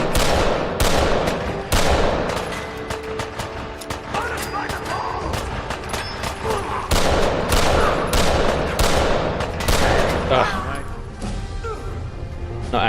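Rapid gunfire in Fallout 4 rattles in repeated bursts of shots, loud and close, with a voice talking over the shooting throughout.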